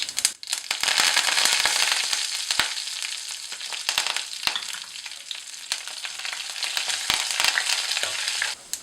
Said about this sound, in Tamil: இப்போ எண்ணெய் நல்லா காஞ்சிருச்சு. கருவேப்பிலை கொஞ்சம் சேர்த்துக்கலாம்.